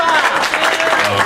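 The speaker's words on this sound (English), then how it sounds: "let's give her a round of applause" A crowd at a Democratic organization fundraiser gives a brief burst of steady applause, loud and close, with a voice faintly audible in the mix.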